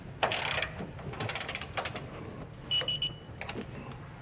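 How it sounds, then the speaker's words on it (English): Ratchet clicks in short bursts as a mechanic torques down hardware on a Demco Hijacker above-bed base rail kit in the bed of a 2018 Ram 3500 pickup, with metallic clinks between bursts; close and moderately loud. "we'll just go through to each of our hardware and torque them down"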